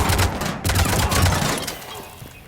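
Rapid bursts of gunfire in Mass Effect 3, loud and close, with repeated sharp shots over a rumbling backdrop that fades toward the end.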